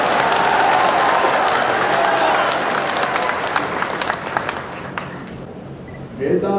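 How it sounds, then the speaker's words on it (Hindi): A crowd at a political speech addressing the Beldar community breaks into strong applause that thins into scattered claps, with a voice coming in at the end. "अब इस पर तो जोर से ताली बजाओ।"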